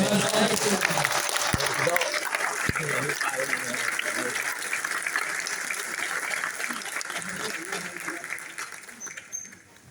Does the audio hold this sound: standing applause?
yes